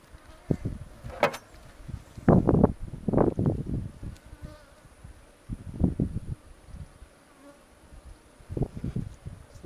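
Honey bees buzz around an open hive during an inspection for wax moth damage in the brood, their drone swelling and fading in loud close bursts against a quieter hum.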